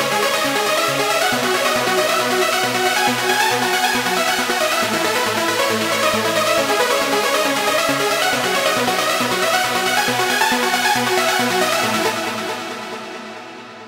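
Dense synth lead, playing loud and continuous for about twelve seconds with steady rhythmic pulsing before fading out, no voices.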